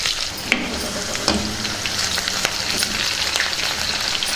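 Steady crackling sizzle of onions frying in oil with tempering spices for mudda pappu, with a few sharp pops and light stirring clicks.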